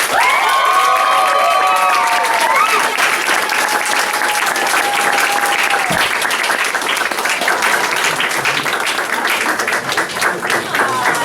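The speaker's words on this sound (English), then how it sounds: "Let's give her a round of applause." Graduation crowd applauding and cheering, with voices and shouts ringing out at first, then steady clapping continuing loud and close throughout.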